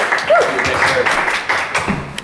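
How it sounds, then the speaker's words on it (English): A brief burst of audience clapping at a poetry reading event, fairly close and steady, with a voice speaking over it. "Please keep that clap going for our next poet."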